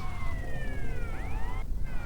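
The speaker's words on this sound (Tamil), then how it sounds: "இங்கே சைரன் மாதிரி அடிக்குது கைஸ்." In the video game GTA Vice City, a police siren wails with rising and falling tones over steady engine and road noise, loud and close throughout.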